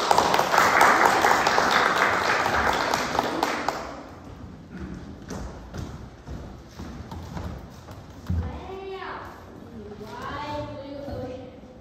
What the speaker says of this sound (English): Make sure every time you see The Rainbow Fish, you give him a big round of applause.